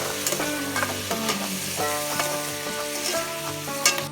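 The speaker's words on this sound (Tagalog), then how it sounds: "hindi nawawala yung patis pagka nagigisa tayo" Stirring and sizzling in a pan as fish sauce goes into a sauté for salmon-head sinigang at a backyard cook, with clattering utensil scrapes and steady frying texture throughout, close and moderately loud, no talking.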